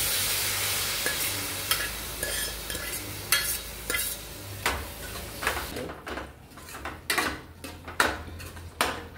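Cooked jackfruit goes into a pan and is stirred with a utensil, giving repeated scraping and clattering strokes over a steady low sizzle, close and fairly loud throughout.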